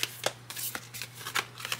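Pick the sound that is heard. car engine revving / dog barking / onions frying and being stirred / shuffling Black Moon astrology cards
shuffling Black Moon astrology cards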